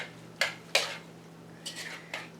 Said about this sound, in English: we're going to stir all this together into one beautiful concoction